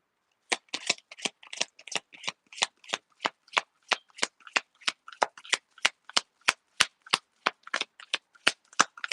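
A deck of African goddess oracle cards being shuffled, a rapid, steady run of crisp riffling snaps repeating about three times a second, close and loud with no talk.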